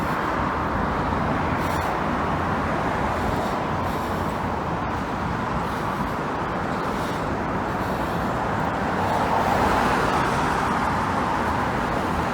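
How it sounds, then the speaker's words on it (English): Heavy road traffic on Markham Road in Scarborough on a Monday evening, a dense continuous roar of cars, buses and trucks passing close by, swelling slightly near the end. "A lot of drivers, a lot of traffic Markham Road sees"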